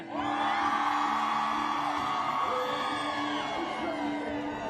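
A large outdoor crowd at a reproductive rights rally screams, whoops and cheers continuously, a dense and loud wall of voices that holds steady throughout.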